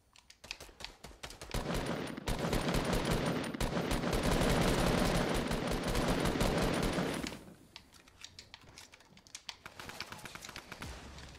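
In the video game Fortnite Battle Royale, a sustained burst of rapid automatic gunfire rattles for roughly five seconds, then drops to scattered quieter shots and clicks; the whole passage is faint.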